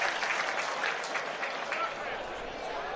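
A baseball crowd at an international game between Cuba and Curaçao applauds a fan's catch, producing a dense, sustained roar of clapping that stays fairly loud and steady throughout.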